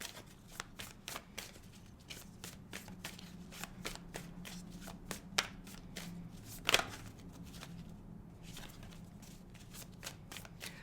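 A deck of tarot cards is shuffled by hand in repeated soft riffling bursts and taps, quiet and close, with a few sharper snaps along the way.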